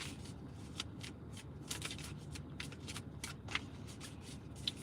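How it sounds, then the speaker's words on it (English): Tarot cards are shuffled steadily and close by, a continuous papery riffle broken by small slaps and snaps, with no one speaking. "I'm just gonna keep on shuffling"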